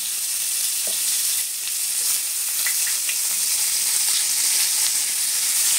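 Nigella seeds and chopped onion frying in hot oil, a loud, steady sizzle close by with faint scattered pops and stirring clicks throughout.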